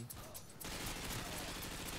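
Automatic gunfire in a first-person shooter game rattles in rapid continuous bursts after a brief quieter opening, dense and fairly faint in the mix.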